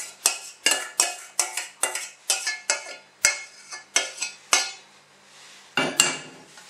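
Pasta being mixed with sauce in a dish, with a series of sharp clinks and scrapes of a utensil against the dish in an irregular rhythm. The knocks are close and fairly loud, then there is a short pause before a final burst.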